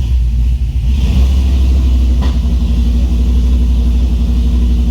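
A Chevrolet Trailblazer SS with a swapped engine and an air-fuel tuning fault, idling roughly and revving up loudly, a steady close rumble with a brief throttle spike partway through.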